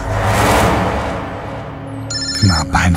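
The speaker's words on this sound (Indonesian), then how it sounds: "Siapa yang menelponku malam-malam seperti ini?" A mobile phone rings with an incoming call at night, its bright electronic ringtone starting partway through and repeating in short bursts after a stretch of dark, noisy ambience.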